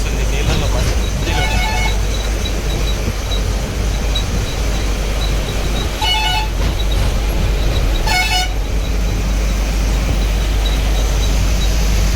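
Several short car horn toots in busy highway traffic on a flyover, with a steady engine and wind roar underneath and a voice talking over it.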